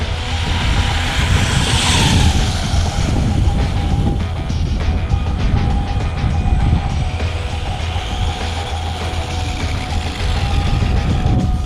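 An RC crawler car's electric motor runs at full throttle in a speed challenge, producing a loud, steady, high-pitched whine that holds almost unchanged from start to finish without any voices.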